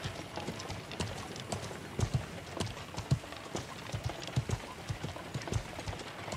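Hooves of a horse in the medieval multiplayer game Feudal MMO clip-clop in a steady, brisk rhythm, close and continuous, with slightly louder strikes now and then over a light noisy bed.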